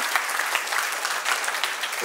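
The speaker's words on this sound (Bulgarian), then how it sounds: "Вашите аплодисменти, напълно оправдани и заслужени." Steady, dense audience applause fills a cake art awards ceremony in Bulgaria, a close, even wash of many hands clapping with no voices.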